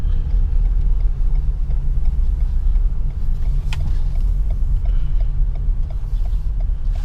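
A 2016 Lexus RX 350 SUV rolls slowly in drive, giving a steady low engine and road rumble that stays close and even throughout, with a few faint ticking clicks and no talking.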